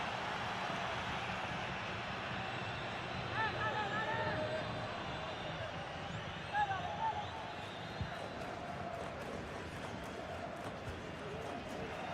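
A stadium crowd at a video game football match keeps up a steady, dense roar throughout, a broad distant wash with slight swells rather than distinct cheers.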